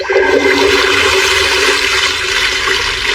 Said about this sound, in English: Water come forth.